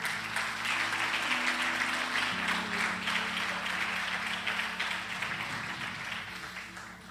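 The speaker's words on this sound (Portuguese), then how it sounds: "Dá um aplauso ao Senhor." A church congregation claps and applauds continuously during a service, a dense steady wash of clapping with a low musical hum underneath.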